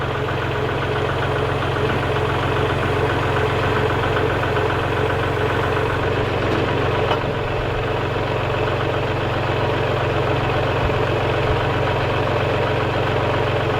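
A tractor engine idles steadily nearby, a low rumbling chug with a faint knocking rhythm that continues unbroken.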